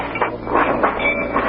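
A freight train rumbles and clanks through railroad freight yards on the outskirts of a city at night, a steady, loud, dense roar of rolling cars with faint metallic squeals.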